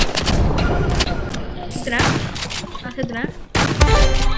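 Rapid shotgun blasts from an online shooter game crack out in a loud burst, trailing off before a second round of shots, while an excited player talks over the gunfire.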